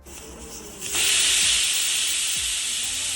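A pressure cooker cooking spinach dal with tamarind lets off steam: a faint hiss swells suddenly into a loud, close, sustained whistling hiss that holds steady to the end.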